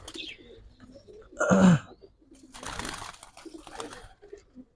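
Giribaz pigeons cooing in a loft, a few soft low coos with a louder burst near the middle, set against quiet background murmur.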